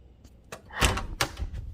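A door opens with a few close knocks and thuds in quick succession, brief clunky impacts in a quiet room with no voices.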